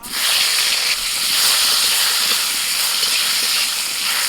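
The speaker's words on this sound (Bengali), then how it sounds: "এবার কাঁচকলাগুলো একটু ভেজে নেব" Raw green plantain slices fry in hot oil, giving a steady, loud, dense hiss and crackle that runs unbroken from start to finish with no voices.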